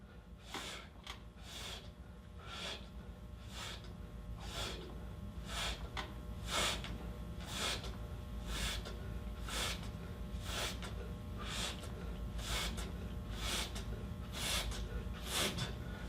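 Heavy, rhythmic breathing during an ab workout of toe touchers and reverse crunches: sharp, regular exhalations repeat roughly every second for about sixteen seconds, close to the microphone with no talking.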